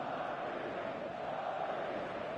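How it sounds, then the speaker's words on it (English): Stadium crowd noise in an eFootball video game, a dense, steady roar of many voices at moderate level, unbroken and even throughout without distinct chants or peaks. "The noise is just about reaching a crescendo here as these two sides get ready to lock horns."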